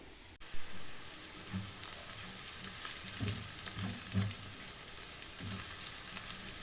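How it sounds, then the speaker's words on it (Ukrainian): Onions sizzle and crackle steadily in a hot pan, a close, continuous frying hiss with occasional soft stirring bumps, no voices. "смажиться цибулька"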